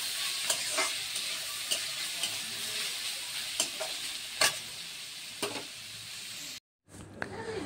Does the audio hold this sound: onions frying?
yes